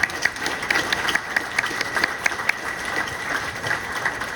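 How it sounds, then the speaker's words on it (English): Scattered, moderate clapping from an audience at a partnership announcement for a radiologic technology program, with some individual claps standing out and a steady murmur beneath. "You can clap if you'd like."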